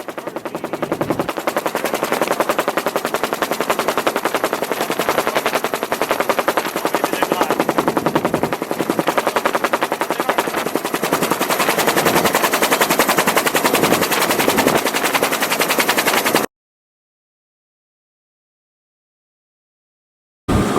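A helicopter flies over a hurricane-damaged vehicle storage yard at Copart's Okeechobee, Florida facility, recorded from inside, its rotor chopping in a loud, steady, rapid pulse for about sixteen seconds before cutting out abruptly.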